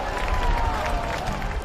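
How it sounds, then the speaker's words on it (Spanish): Loud, dense applause from a crowd welcoming Pope Francis inside Turin's cathedral, a steady wash of clapping and crowd noise filling the whole stretch. "Con este fuerte aplauso le dieron la bienvenida en la catedral que la custodia"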